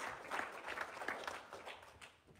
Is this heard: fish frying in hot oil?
no